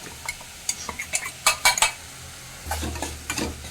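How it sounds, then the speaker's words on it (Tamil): Ground coconut paste being stirred into a vegetable stir-fry with cooked raw plantain and cluster beans, a spoon scraping and clinking in the pan over a soft sizzle, short close strokes with a gap before a louder stir. "கிண்டி விட்டு கொச்ச பச்சை வாசம் போகிறது வரைக்கும் இதை கிண்டி விட்டுக்கிட்டு"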